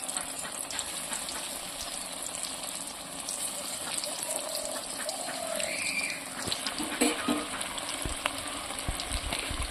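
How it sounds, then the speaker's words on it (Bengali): Green-banana kofta frying in a little oil, a steady close hiss and crackle of sizzling throughout, with faint kitchen clatter. "তেল দিয়ে ভাজছি, আপনারা চাইলে বেশি তেল দিয়ে ভেজে নেবেন।"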